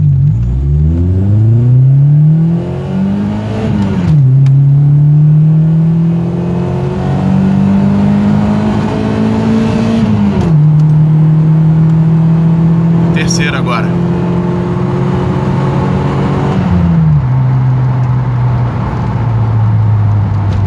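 A 2010s VW Gol G4 1.6 flex, 100 hp, accelerating hard from first gear to 100 km/h, engine revving up loud and close through several rising pulls with gear-change dips between them.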